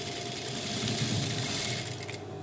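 Close, continuous mechanical whirring of a sewing machine stitching a dress collar, running steadily throughout with a slight rise in intensity midway and no voices.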